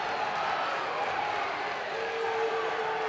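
Basketball crowd in a college gym booing a foul call, a dense sustained roar of many voices filling the arena without letup.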